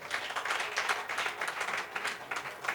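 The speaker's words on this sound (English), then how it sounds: "Please clap for yourself." An audience at an annual general meeting applauding steadily, a dense patter of clapping hands that holds at an even level throughout.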